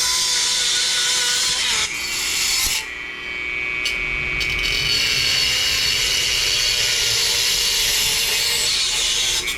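Steady rasping saw strokes through wood, loud and close, with a brief pause before the cutting resumes.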